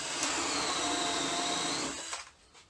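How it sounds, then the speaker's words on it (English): A power drill with a Forstner bit bores into a piece of wood, giving a steady high whine for about two seconds before winding down and stopping. "I'm going to go ahead and drill halfway through with my Forstner bit."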